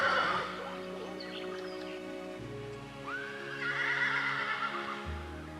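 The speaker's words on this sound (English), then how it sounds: "he approached the other horses" Wild brumby horses neigh and whinny in the bush, loud, close calls rising and falling over about six seconds, with a few lower snorts between them.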